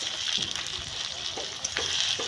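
Spices are stirred into hot oil in a frying pan for chicken curry. A steady loud sizzle runs throughout, and a utensil scrapes and knocks against the pan in quick repeated strokes.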